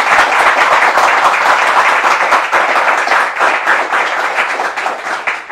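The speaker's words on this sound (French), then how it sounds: "on applaudit très fort ces différentes interventions" Loud, dense applause from an audience at a French-language Christian gathering, sustained and steady for the full stretch after a series of talks, with countless hands blending into one continuous roar.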